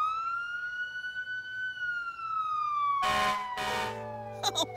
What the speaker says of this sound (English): The siren tells the cars and trucks to get out of the way.